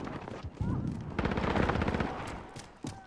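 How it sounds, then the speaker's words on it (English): Gunfire in the shooter game Call of Duty: Modern Warfare, a dense rattle of rapid shots that swells and fades across the moment, loud and continuous with brief gaps. "All I hear is gunfire."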